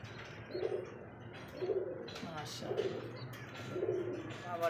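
Pigeons coo in a slow repeating rhythm, soft and close, with faint background voices between the calls.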